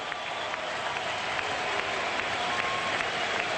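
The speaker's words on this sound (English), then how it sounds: "the applause here at the Sydney Cricket Ground isn't only Indian hands coming together, everybody here" Crowd at the Sydney Cricket Ground during an Australia v India one-day final applauding a batsman's half century, a dense, sustained wash of clapping from a large distant crowd with a few sharper nearby claps.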